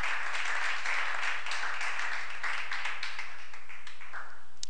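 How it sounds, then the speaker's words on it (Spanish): Dense, continuous applause fills a church as a congregation claps for Christ, loud and sustained from start to finish with no pauses. "Dale un aplauso a Cristo"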